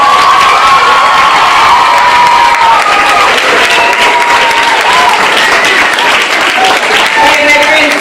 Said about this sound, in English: face the audience one more round of applause.